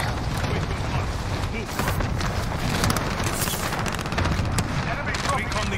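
Dense gunfire bursts in Call of Duty Warzone, rapid automatic shots and booms layered into a loud, continuous battle mix with voices talking over it.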